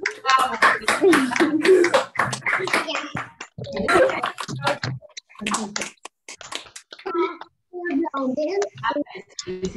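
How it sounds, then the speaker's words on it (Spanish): Scattered claps and snaps from participants on open microphones at a school celebration for mothers, uneven and intermittent, with children and adults talking over them. "vamos a dar un aplauso fuerte"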